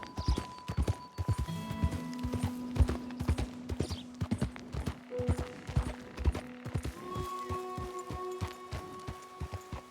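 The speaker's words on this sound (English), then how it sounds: "That's a horse." Horse hooves clip-clop in the open-world western game Red Dead Redemption 2, a steady, close, rhythmic stream of hoofbeats lasting the whole stretch over a soft tonal game soundtrack, with no talk.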